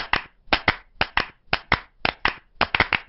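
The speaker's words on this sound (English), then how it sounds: "If you can clap, you can make music." Cartoon children clap their hands together in a crisp, steady rhythm, sharp claps falling in quick pairs and triplets, loud and close with no talking.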